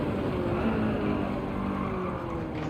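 Ford Sierra Cosworth RS 500 engine in Gran Turismo 7 at the Nürburgring, a loud, continuous rasping drone held near and steady with slight pitch shifts, no speech.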